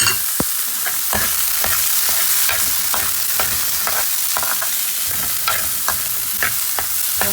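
Sundal being stirred in a hot pan with salt and coconut: steady scraping and stirring strokes over a constant frying sizzle, close and fairly loud, with no voices.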